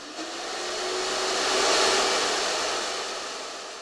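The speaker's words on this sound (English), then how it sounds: "connect the hose from the vacuum cleaner, and turn the vacuum on." A vacuum cleaner runs with its hose connected to a transmission tank adapter, giving a loud, steady broadband whoosh that swells slightly and then eases, with no talking.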